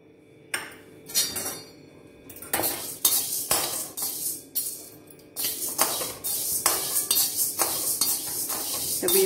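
Chana and urad dal being stirred in a bowl with a metal spoon, giving repeated scraping clinks and rattles in irregular bursts, close and fairly loud, with no talking.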